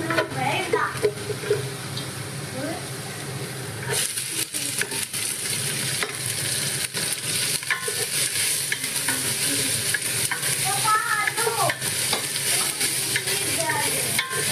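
Onion goes into garlic frying in a pan for lasagna, a loud, busy sizzle with ongoing stirring and scraping and faint voices in the background.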